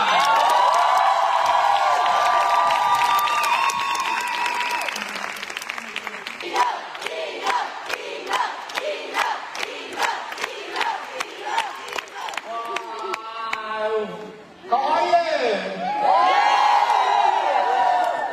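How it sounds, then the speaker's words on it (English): Fan meeting crowd in Barcelona cheering loudly with screams and whoops, then breaking into dense rhythmic applause that fades, followed by a fresh burst of shrill cheering and shouting from many people. "please give it up, big applause for Eva and Shorta"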